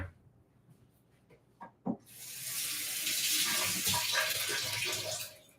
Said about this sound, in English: Wash the cucumber.